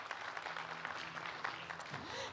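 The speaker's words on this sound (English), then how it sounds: "I would like to have big applauses." Applause from a conference audience at the Take Off Istanbul 2023 startup summit, a steady dense wash of clapping at moderate distance, with a faint tone drifting in near the end.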